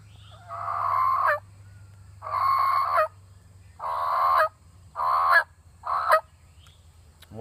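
A hand-operated turkey call imitating a hen's yelp, five loud close bursts of raspy high-to-low notes separated by short pauses over a low steady hum.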